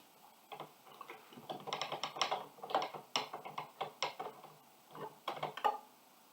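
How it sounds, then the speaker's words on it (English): A wire is unscrewed from a scale changer harmonium, giving a quiet, close run of small dry ticks and scrapes from a screwdriver and metal parts, irregular clusters with short pauses. "here we will have to unscrew the wire separately"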